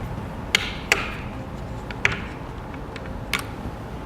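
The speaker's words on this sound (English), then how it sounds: "we'll take our included tightening tool and tighten down the bolt in the center" An included tightening tool turning down a center bolt on a Rhino-Rack 2500 Series roof rack leg fit kit, a few sharp metallic clicks and taps spaced irregularly over low background noise, with no talk.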